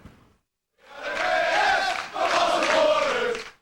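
Timbers Army soccer fans in a Portland pub let out two loud, sustained roars of crowd cheering and chanting, with a short silence before the first swell.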